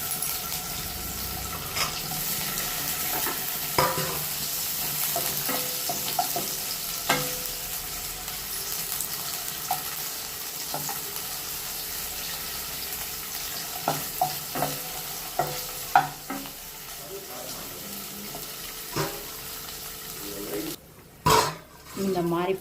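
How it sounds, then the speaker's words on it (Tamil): Paneer cubes fry in hot oil in a kadai with a soft continuous sizzle, punctuated by scattered sharp clinks and stirring knocks, and a brief burst of running water near the end. "இப்போ ஒரு பன்னீரை பொரிச்சிக்கணும்."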